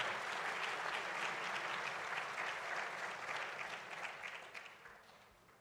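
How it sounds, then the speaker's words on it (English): Steady audience applause at a community salute ceremony honoring Coast Guard and other service members, a dense crowd clapping that holds strong before gradually fading out. "To everybody, a round of applause for all of those names right there."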